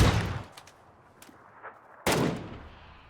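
Gunfire in the PUBG battle royale game: a loud, close shot opens, followed by a brief lull with faint distant pops, then a second sharp, heavy report that rings out and fades.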